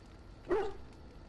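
A single short dog bark from the Dragon Age video game, clear but fairly quiet over a low background hum.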